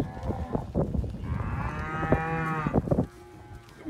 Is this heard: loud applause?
no